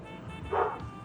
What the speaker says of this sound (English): Katie, you just want to bark